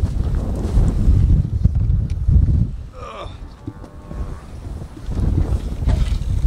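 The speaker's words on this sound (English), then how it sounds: "Wind makes it hard to hold the door open." Wind buffets the microphone outdoors on a farm near a tractor, loud gusty rumbling in strong bursts that eases briefly in the middle before picking up again.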